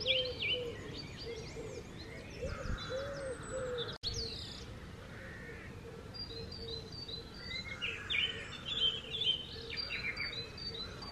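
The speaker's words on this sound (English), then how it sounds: "Gosh, listen to all the birds." Birds sing in a spring garden in the morning, with a pigeon or dove cooing repeatedly alongside varied chirps and tweets, fairly faint and outdoors.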